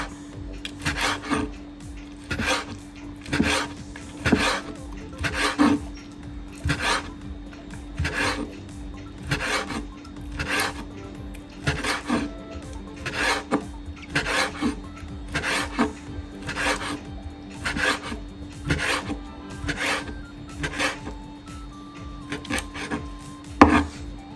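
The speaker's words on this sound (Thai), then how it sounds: "หั่นบางๆไว้" A knife slices pork stomach into thin pieces on a cutting board while preparing northern Thai larb, giving steady, evenly spaced scraping strokes about once a second, close and clear with no talking.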